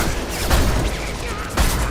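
Weapon fire in Mass Effect 2 sounds as two loud booming blasts, one near the start and one near the end, over dense game ambience and a voice.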